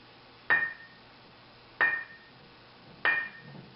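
Hammer tapping a piece of sculpting stone, three separate sharp strikes about a second apart, each leaving a short bright ring, close and alone in a quiet room.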